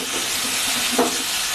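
Gobindobhog rice frying and being stirred in a hot pan, a steady close sizzle with a brief scrape of stirring near the middle.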